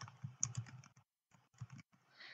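Soft keystrokes on a computer keyboard while information is entered into Canva template text boxes: a quick run of close, quiet clicks, a brief pause, then a few more taps.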